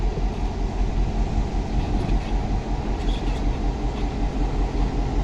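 A diesel locomotive, Tennessee, Alabama and Georgia number 80, built in 1968 by Electro-Motive Division, rumbles steadily up close, a heavy, continuous engine drone with no pauses.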